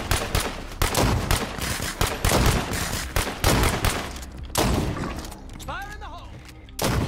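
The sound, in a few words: gunfire in the video game State of Decay 2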